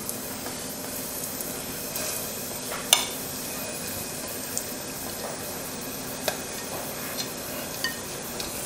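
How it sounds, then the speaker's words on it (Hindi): Wheat and cardamom roast in desi ghee inside a pressure cooker over low heat, a gentle continuous sizzle punctuated by regular metallic stirring taps and scrapes, close and without speech. "दो तीन मिनट बिल्कुल धीमी आंच पर हम इसे भून लेंगे"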